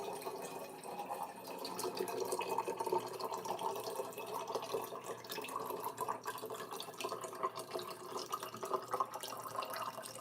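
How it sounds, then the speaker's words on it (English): Water from a tap fills a glass indoors, a steady faint splashing and trickling stream with small drips, continuing throughout without talk. "Let me just get some water."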